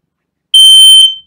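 A smoke detector fitted with a fresh 9-volt battery gives a single short, piercing high-pitched beep that cuts in sharply, holds for about half a second and then fades, with silence before it.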